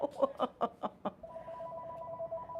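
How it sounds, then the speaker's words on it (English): An intercom phone rings with a rapid burst of bright electronic pulses, then settles into a steady sustained tone, close and clear, with no voices over it. "It's a phone that works just for my interphone, the intercom"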